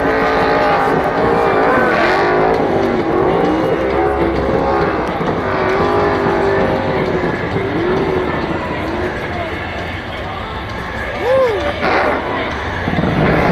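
A NASCAR race car roars through a burnout at Atlanta, a loud sustained engine wail with tire noise and crowd din, while a commentator talks over it throughout.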